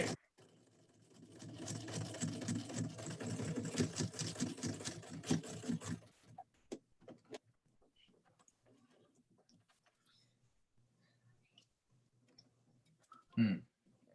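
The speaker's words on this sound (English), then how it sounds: "You're going to see the sewing machine cam shaking up the table." A sewing machine stitches a fabric mask in a fast, rhythmic run of clicking for about six seconds, then stops, leaving faint handling sounds and a brief noise near the end.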